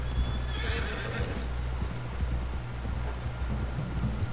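A horse in the Red Dead Redemption 2 video game gives a loud whinny at the start, then gallops with a steady clip-clop of hooves against rushing wind.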